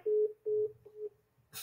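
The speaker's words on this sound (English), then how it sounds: "This is ringtone." A telephone rings back through the earpiece in three evenly spaced tones, clear and steady, followed by a short burst of noise.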